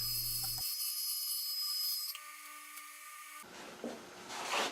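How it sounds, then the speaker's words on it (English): A small table saw with a 3-inch, 90-tooth thin-kerf blade whines steadily as it cuts thin wood strips, the pitch dropping and returning under load before a brief harsh rasp at the end. "I'm slicing the strips to 3/4 inch wide using a 3-inch diameter blade"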